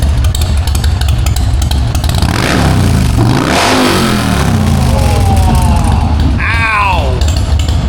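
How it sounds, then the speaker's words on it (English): A Harley-Davidson Road Glide with a 135 motor roars very loudly and close, revving hard with rising and falling pitch sweeps over a constant heavy rumble. "Listen to this bike."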